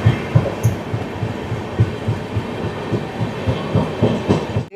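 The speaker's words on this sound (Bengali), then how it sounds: "পাটনা সাহিব বেরোচ্ছে রায়নগর হাওড়া সুপারফাস্ট এক্সপ্রেস" The Howrah superfast express rolls past at close range with a loud, steady clickety-clack and evenly spaced wheel thumps over the rails. There is no speech.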